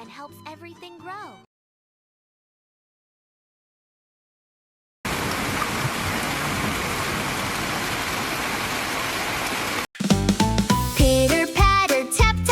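Rain falls as a steady hiss of drops for about five seconds, framed by brief music before and after.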